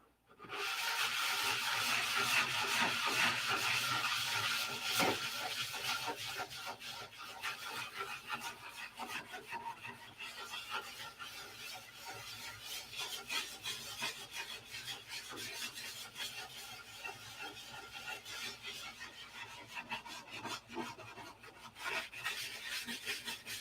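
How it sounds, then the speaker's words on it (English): Steady rasping of sandpaper worked over a wooden P-47 aircraft model, continuous and close, loudest in the first few seconds then settling into a slightly softer, even scrubbing with small rhythmic variations. "You guys tired of watching me sand yet?"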